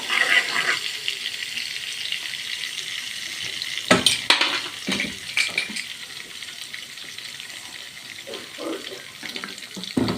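Crushed garlic frying in ghee and corn oil, a soft continuous hiss close by, broken around the middle by a cluster of knocks and scraping stirs, then settling back to a quiet sizzle with occasional taps.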